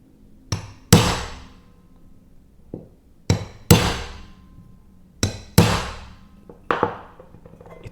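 Hammer strikes drive a manual center punch into wood, falling in three sharp groups of two or three close, loud metallic taps with short ringing decays and pauses between.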